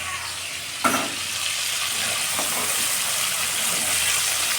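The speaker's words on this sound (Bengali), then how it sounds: "চিংড়ি মাছটা ভাজা হয়েছে," Prawns fry in hot oil in a pan, a steady bright sizzle that runs throughout, with a single sharp clatter near the start and a softer stir partway through.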